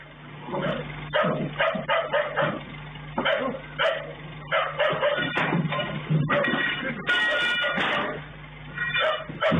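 Guard dog barking loudly and close, a string of sharp repeated barks in uneven bursts, with brief yips in between.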